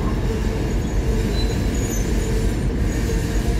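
A train rumbles along steadily past a platform in Tyumen, a constant low rolling roar of wheels on track without a pause.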